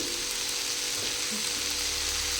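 Mushroom masala paste frying in a pan, a dense, even hiss of sizzling that holds steady throughout this short stretch, close up with no voices.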